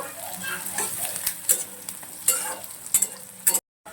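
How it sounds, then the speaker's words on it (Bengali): Onions frying in a pan toward light golden brown, a steady close sizzle broken by several sharp spoon-stirring scrapes and clinks, with no voices. "হালকা গোল্ডেন ব্রাউন হয়ে যাওয়া পর্যন্ত পেঁয়াজটা একটু ফ্রাই করে নেব"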